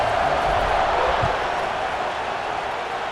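A football stadium crowd roars steadily at kickoff in a Florida Gators game, a dense, loud, unbroken wall of cheering with no distinct voices standing out.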